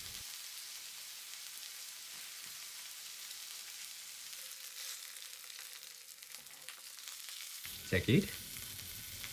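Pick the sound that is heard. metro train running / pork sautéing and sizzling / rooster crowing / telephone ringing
pork sautéing and sizzling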